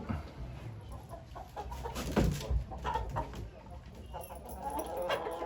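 A hen at a poultry auction in Ankara gives short clucks against a busy background of crowd murmur and handling noise, with a couple of louder bursts near the middle.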